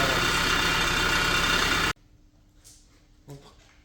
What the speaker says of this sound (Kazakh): Мотор көзінде мотор қалшылдап жұмыс істеп тұр